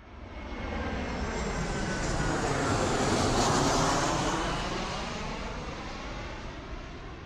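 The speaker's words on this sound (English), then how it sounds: "Airplanes need propellers or jet engines in order to fly." A jet airplane roars past, its broad engine rush swelling to a peak midway and then slowly fading, loud and continuous with no voices.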